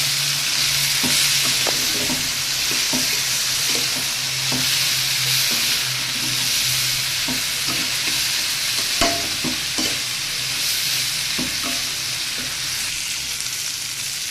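Yardlong beans and potatoes fry steadily in a pan, giving a continuous sizzle broken by repeated scraping and clacking stirs. No one speaks over it.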